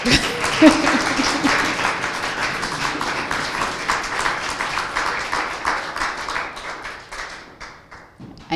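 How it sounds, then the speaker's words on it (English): Sustained audience applause after a poetry reading at a literary event, dense and even for several seconds, then thinning out toward the end, fairly loud and close with no voices over it. "I think we should applaud"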